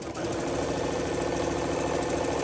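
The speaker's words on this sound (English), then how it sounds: "Sewing a 1/4 inch seam." A sewing machine stitching a quarter-inch quilting seam, a continuous close mechanical whir with a rapid even needle rhythm, steady throughout.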